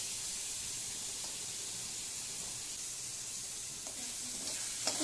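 Fried tender jackfruit (gujje) is stirred in a pan with red chilli and tomato sauces for Manchurian, giving a steady close hiss of sizzling with occasional soft scrapes of the spatula.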